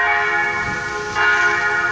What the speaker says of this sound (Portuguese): Meio-dia, os sinos tocando aí, ó, na igreja